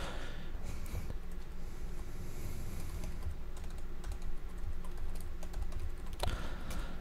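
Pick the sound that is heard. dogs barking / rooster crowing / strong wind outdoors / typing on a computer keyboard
typing on a computer keyboard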